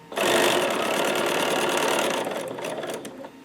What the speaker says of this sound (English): I'm going to continue stitching down the other side of the line